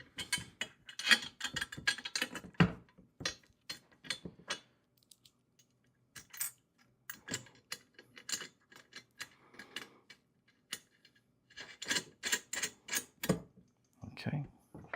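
Bolt and nut being tightened by hand with a wrench during assembly of a heavy-duty four-wheel garden dump cart wagon, giving bursts of ratcheting clicks and small metallic knocks, close by, with pauses between them.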